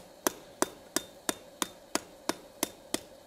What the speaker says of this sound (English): It's just light hammer work now.